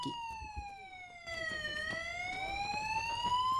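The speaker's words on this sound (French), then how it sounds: "19h30, l'alarme se déclenche." An alarm sounds at a patrol base in the evening, a loud, steady electronic wail with a pitch that drops and then rises again, running without a break.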